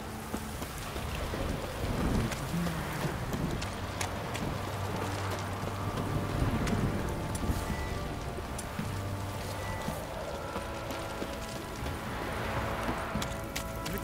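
Steady rain falling in The Witcher 3 game world, a constant close hiss with low rumbles that may be thunder, and faint hoof clops underneath; no voices.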